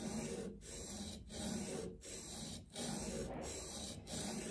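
A steel chisel rubbed back and forth on a double-sided diamond sharpening plate, 1000 grit side, giving a steady close rasping scrape in repeated strokes with brief pauses between passes.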